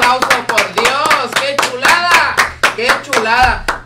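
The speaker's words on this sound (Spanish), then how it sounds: "Un aplauso, por Dios" A crowd claps and cheers loudly and steadily throughout, with voices shouting and whooping over the applause.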